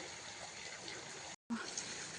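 Water spills out of a small filled tank in a steady, fairly faint trickling flow, broken by a brief silent gap partway through.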